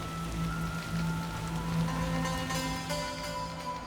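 Rain falls in The Witcher: Enhanced Edition, a steady dense patter on surfaces that holds throughout beneath soft, sustained ambient music tones.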